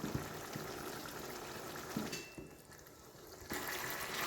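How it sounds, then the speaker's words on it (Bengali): Tomato-potato curry (alur dom) bubbles in a pot, a faint, steady simmering hiss with soft pops that dips briefly before returning. "এই দেখো ফুটছে।"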